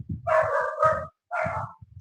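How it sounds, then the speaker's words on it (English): Several dogs bark loudly and close by in a home, a cluster of sharp barks followed by a brief pause and a second burst, with no talking. "Please ignore my dogs."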